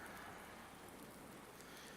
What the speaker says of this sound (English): And it's still pouring rain